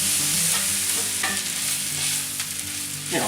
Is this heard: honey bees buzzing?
no